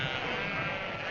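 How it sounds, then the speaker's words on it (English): Sheep bleat on a road in one short, continuous, wavering cry that is fairly faint. "Get those sheep out of here!"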